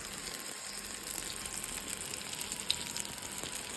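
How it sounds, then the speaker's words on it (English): Aubergine and okra shallow frying in oil with spices, giving a steady, close crackling sizzle that runs unbroken throughout, with one brief sharper pop near the end. "they are sizzling away. You can hear the sizzle."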